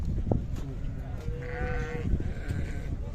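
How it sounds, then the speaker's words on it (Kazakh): Sheep bleating at a livestock market, a couple of wavering bleats close by over a noisy crowd murmur and background chatter. "Чоң қойлар."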